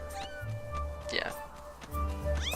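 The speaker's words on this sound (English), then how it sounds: "Headmaster Gapora's cat." Headmaster Gaepora's cat in The Legend of Zelda: Skyward Sword meows repeatedly, several short whining mews over a low game music hum, with a person talking underneath.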